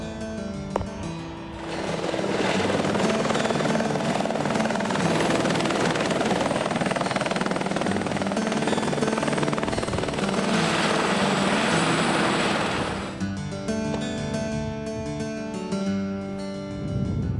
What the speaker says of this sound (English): the local aero medical ambulance helicopter company